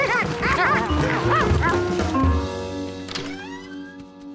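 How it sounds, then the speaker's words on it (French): A dog gives a quick run of close, loud barks and yips, then trails off into drawn-out whimpering and whining. "Quand il l'entendit aboyer,"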